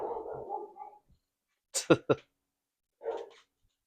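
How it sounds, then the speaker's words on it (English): Dogs upstairs bark in a couple of muffled, distant yelps during a quiet pool-hall moment, with brief talk and a few scattered noises around them. "Dogs are barking upstairs."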